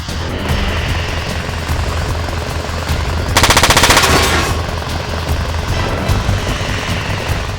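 Rapid automatic gunfire from the mech combat video game Front Mission 4, a loud dense burst of closely spaced shots over a constant mechanical drone and battle noise, with no talking.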